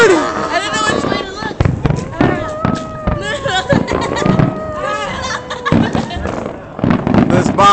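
Fireworks burst on and around a rooftop, with sharp bangs and crackles in rapid succession over a continuous babble of voices and excited shouting from a nearby crowd.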